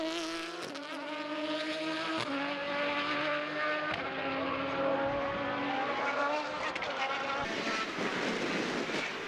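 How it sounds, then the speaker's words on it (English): Formula BOSS race cars howl around the Mondello circuit in Ireland, a loud, continuous engine scream with shifting pitch as they pass and change gear, filling the whole stretch. "He comes back on track just ahead of Tom."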